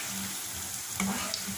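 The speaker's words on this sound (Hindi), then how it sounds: "बराबर से फ्राई हो जाए हर तरफ से। हमारे अच्छे से गोल्डन फ्राई हो गए।" Onion pakoras fry to golden in a pan of oil, giving a dense, even sizzle that carries throughout, with a faint knock or two of a utensil.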